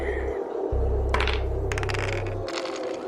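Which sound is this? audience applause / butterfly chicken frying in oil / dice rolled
dice rolled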